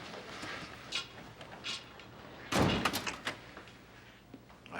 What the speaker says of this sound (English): Close the door, Tony.